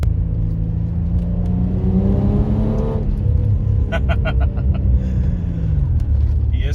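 Ford Territory NA engine with an aftermarket Pace Maker 4495 exhaust and 100-cell cat revving up and easing off, a loud steady rumble with a rising then falling pitch, heard close up and on its own.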